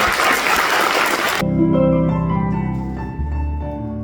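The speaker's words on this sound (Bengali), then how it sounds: "ওদের জন্য একটা খুব বড় হাততালি চাই" Loud, dense applause from an auditorium audience at a concert fills the first second and a half, then cuts off sharply as music begins.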